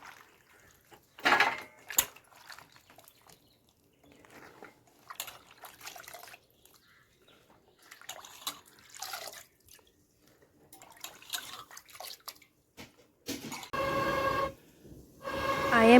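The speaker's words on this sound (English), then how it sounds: "Now I am cleaning the jackfruit piece using water." Fresh jackfruit pieces are washed with water in a village kitchen, giving intermittent splashes, drips and pouring bursts, with a louder pour near the end.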